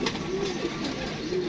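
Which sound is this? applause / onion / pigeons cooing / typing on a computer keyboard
pigeons cooing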